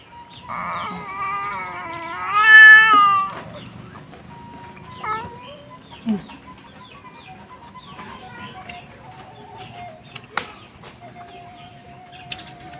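A cat meows loudly a few times near the start with rising, wavering cries, then scattered softer calls and household noises follow.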